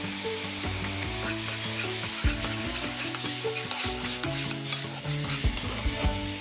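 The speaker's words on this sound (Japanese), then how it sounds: "今ね、ふきのとう刻んだやつをごま油で炒めてますね。" Chopped butterbur buds sizzle in sesame oil in a pan, with repeated scraping strokes of a utensil stirring them, steady and close.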